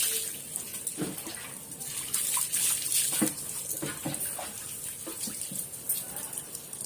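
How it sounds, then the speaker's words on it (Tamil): Water splashes and pours intermittently at close range over a puppy being bathed, with a few sloshing bursts and a faint hiss running underneath. "சும்மா இல்லாத நாய்கிட்ட தண்ணி ஊற்றி"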